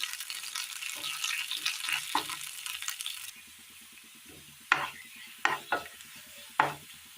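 Mustard seeds tempering in hot oil for a rustic Kerala ridge gourd curry, a dense sizzling crackle at first, then settling into quieter frying with a few sharp pops and spatters near at hand.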